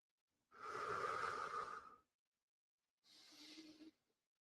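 Two deep breaths taken during a hip mobility routine: a long, full inhale or exhale followed by a pause and a shorter second breath. Both are close and soft, with no talking.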